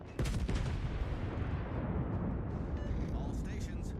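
Battleship New Mexico's main guns fire in the naval game World of Warships, a sharp loud report that turns into a long, heavy rumbling boom and fills the whole moment.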